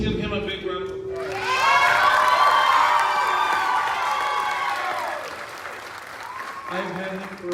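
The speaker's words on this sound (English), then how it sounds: "let's give him a big round of applause" A school summer concert audience at Cholla High School applauds and cheers loudly for a student, sustained clapping with whoops swelling then tapering off, with voices audible near the end.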